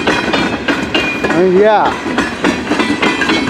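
A CN westbound freight train passes in Emmett, Michigan with rhythmic clattering of wheels on rail joints and a brief rising and falling squeal in the middle, loud and close, with a short spoken remark.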